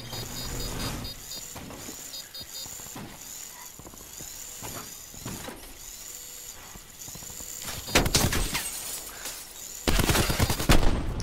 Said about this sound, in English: He shot me twice that fast.